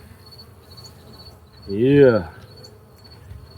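A honey bee at an opened hive buzzes close past for about half a second, a loud rising-and-falling drone over a quiet background with a faint high insect tone.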